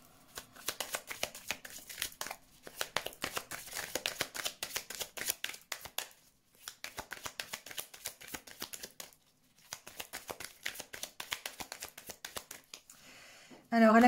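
Tarot cards shuffled for a reading, a long run of quick crisp riffling bursts with brief pauses between them, close and moderately loud, ending in a short louder clatter.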